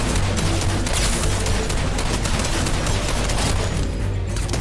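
Sustained gunfire in the video game Fortnite, a dense rapid fusillade of shots with booming low impacts, loud and continuous throughout without talk.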